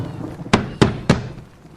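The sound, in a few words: banging on a bedroom door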